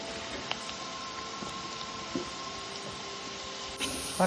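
Bottle gourd dal bubbling in a pot on the stove, a steady soft hiss with faint scattered pops, close and quiet throughout with no talking.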